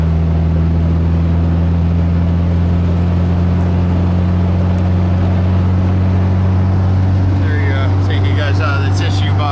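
A 1971 bus engine lugging at 40 mph and 3,000 RPM, a loud, steady low drone with strong humming tones heard from inside the vehicle, with faint higher noises near the end.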